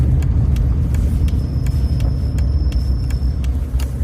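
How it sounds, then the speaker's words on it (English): A car pulls into a car park at Moulton Park, its engine rumbling steadily and close with road noise, faint ticking and a thin high whine, no talk. "Just pulling into the car park here."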